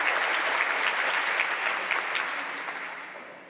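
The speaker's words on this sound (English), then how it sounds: "Please join me in giving her a round of applause." An audience at a public-health school faculty and staff recognition celebration applauds warmly, dense clapping holding strong and gradually tapering off toward the end.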